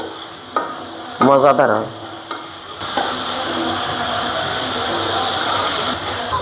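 Spice masala is sautéed with small shrimp and vegetables in a pan, with steady stirring scrapes over a continuous sizzle. A brief burst of close speech comes early on, then the frying sound carries on alone.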